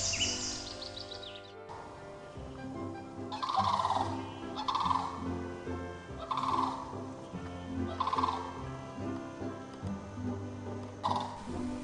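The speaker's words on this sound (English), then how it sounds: "I love these birds, Sandhill Cranes, and they were doing their mating dance right out in my yard." Repeated loud, rattling sandhill crane calls ring out in bursts every second or so, rolling and trilling over steady background sound, fairly close by in a yard.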